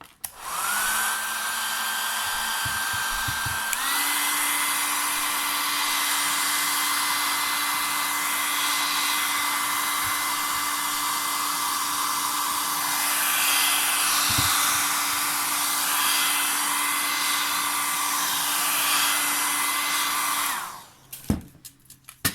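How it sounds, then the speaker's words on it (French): A hair dryer blows steadily at close range while drying a clear plastic pouch with dried flowers, a constant whirring roar with a whine that shifts pitch slightly partway through, then switches off near the end. "je vais donner un petit coup de sèche-cheveux vite fait pour vous montrer après ce que ça donne"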